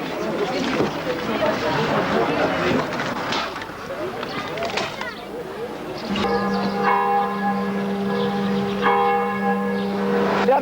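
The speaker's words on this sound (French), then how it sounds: "les 5 coups de 5 heures viennent de sonner au clocher de votre église" A church bell tolls the hour from a village clocktower, heard from a distance after a stretch of crowd murmur and voices, its ringing tone sustained and overlapping as the strikes roll on under continuing background chatter.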